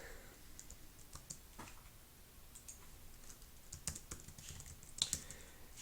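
Fingers tap on a computer keyboard, irregular clicks scattered quietly through a hushed room, with a few sharper keystrokes standing out near the end.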